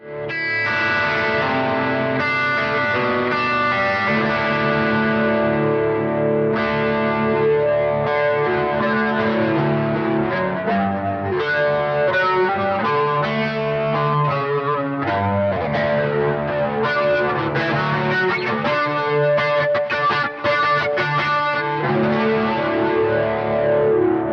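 Electric guitar played through a Neunaber Neuron overdrive pedal, a driven, distorted tone with strummed chords and riffs ringing steadily and loudly with a slight chorus-like shimmer.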